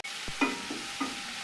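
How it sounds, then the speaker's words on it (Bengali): Chopped onions and green chillies frying in a pan with a soft steady sizzle, broken by a few short scraping stirs of a spatula; no talking. "এই পেঁয়াজটাকে আমি হালকা ব্রাউন করে ভেজে নিব"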